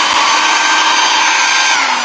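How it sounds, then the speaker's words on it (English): Hair dryer roaring on its high setting in a craft workspace, a loud steady broadband whoosh that holds constant throughout with no talking. "hair dryer."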